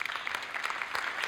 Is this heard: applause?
yes